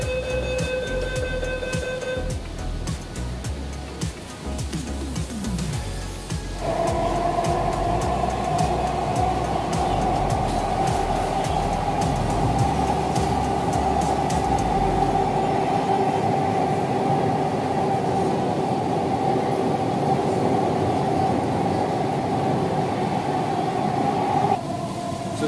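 A Kolkata metro train runs from Sealdah toward Salt Lake with a loud, continuous rolling roar and a steady electric whine heard from on board, with no other sounds.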